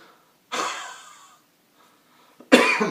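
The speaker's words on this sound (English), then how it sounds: "It's a coughing action." Two forceful, deliberate coughs separated by a pause, each a harsh, breathy burst trailing off; no talking.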